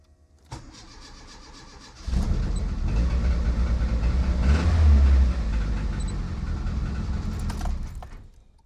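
A car engine is cranked with the key and catches. A short starter whirr comes first, then the engine fires and settles into a loud, steady idle close by, with no talk over it.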